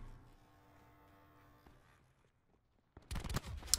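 Loud burst of gunfire and impact from a hardcore free-for-all match in Black Ops 4, breaking out abruptly after a near-silent lull and lasting under a second.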